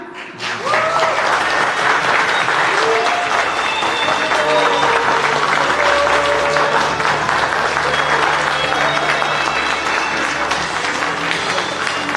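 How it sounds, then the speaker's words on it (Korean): Wedding guests at a Vietnamese-Korean international wedding break into sustained, loud applause as the groom enters, a dense steady clapping from a large crowd with music underneath. "잘생기고 멋진 신랑이 입장할 때는 큰 박수로 환영해 주시기 바라겠습니다"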